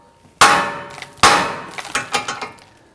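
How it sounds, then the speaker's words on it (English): Sharp metallic clangs of a hammer striking the steering knuckle of a 2009-2017 Volvo XC60: two heavy blows followed by several quicker, lighter ringing hits, close and loud. "Now we're going to use our hammer. We're going to strike the knuckle here."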